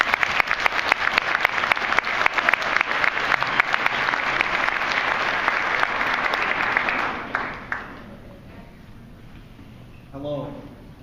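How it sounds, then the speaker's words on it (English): A crowd at an evening fundraiser gives a strong round of applause that fades out after about eight seconds, followed by a voice beginning to speak. "Let's give Jake a big round of applause."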